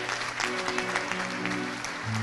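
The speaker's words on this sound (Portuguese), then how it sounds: "Aplauda Jesus." Church congregation applauding at the close of a sermon, brisk overlapping claps with sustained organ or keyboard tones held underneath, steady and moderately close.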